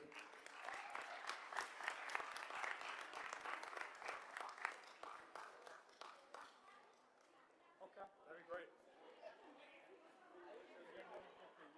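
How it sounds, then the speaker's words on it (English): A school board of education meeting audience applauds, dense clapping at first that thins into scattered claps and fades, with murmured chatter underneath. "One more round of applause for John Krug."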